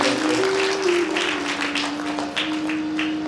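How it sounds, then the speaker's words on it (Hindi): Applause from an audience at a Bhagavat katha, a steady wash of clapping over a sustained tonal drone, with faint voices mixed in. "एक बार जोरदार ताली का स्वागत"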